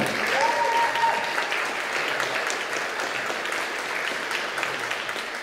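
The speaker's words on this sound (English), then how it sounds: "Give a round of applause for the 4th grade choir." Applause from a school audience after a 4th grade choir performs at a spring concert, a sustained wash of clapping from many hands throughout, with a brief faint tone early on.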